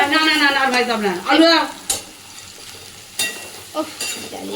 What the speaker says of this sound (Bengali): এটা ভাজা হয়ে গেছে দেখো আর ভাজা